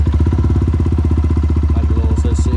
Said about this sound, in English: So I'll do a little start up of the bike now.